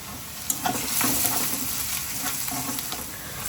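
Fish frying in mustard oil in a pan sizzles loudly and continuously while a utensil scrapes and stirs, with a few sharp clinks near the start.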